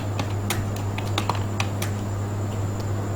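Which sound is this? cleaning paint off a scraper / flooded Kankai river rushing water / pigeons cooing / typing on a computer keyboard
typing on a computer keyboard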